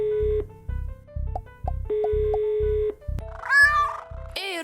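A pet cat named Mister Robson meows over a phone call: a rhythmic series of electronic phone tones is followed by a couple of drawn-out, wavering meows heard through the line.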